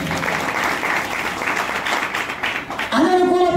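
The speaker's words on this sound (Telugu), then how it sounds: "హల్లెలూయా, చప్పట్లు దేవుని మహిమపరచండి." A church congregation claps together in a sustained, dense burst of applause, loud and close, before a voice rises at the very end.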